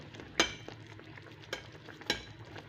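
Veal kidneys frying in a pan and being stirred, with a low sizzle under a few sharp scrapes and clinks of the utensil against the pan.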